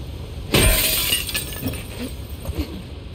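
Glass shatters in The Last of Us Part II with one loud, sharp crash, followed by a few seconds of tinkling debris and soft clinks fading away, with no talk over it.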